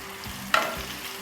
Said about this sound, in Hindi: हल्का सा इसको फ्राई करूँगी।